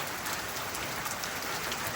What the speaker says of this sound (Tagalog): Kaya yan, ang lakas ng ulan.